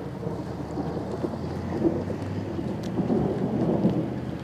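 Continuous low thunder rolls through a thunderstorm, with steady rain and wind noise beneath, swelling slightly in the middle and toward the end, with no talk.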